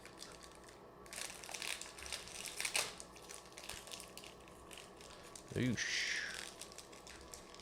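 Someone struggles to tear open a Pokemon card booster pack, producing bursts of crinkling and crunching foil wrapper close up, with a short spoken exclamation partway through.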